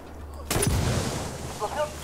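Gunfire erupts abruptly in Ghost Recon Wildlands, a sharp burst of shots followed by a rumbling tail. Voices talk underneath during the firefight.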